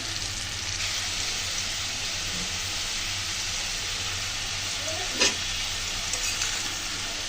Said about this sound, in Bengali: আবার একটু ভালো করে ভেজে নেব।